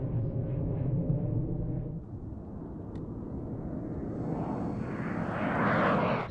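Yak-130 jet trainer of the Vietnamese air force passing low over a runway during a practice touch-and-go approach, a steady loud engine roar that swells into a rising whine as it draws near, with no voices.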